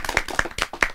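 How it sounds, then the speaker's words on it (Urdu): Applause in a television studio for a children's show: hands clap in a brisk, even rhythm of about four loud, close claps within a second. "تالیاں ہو جائیں ان کے لیے"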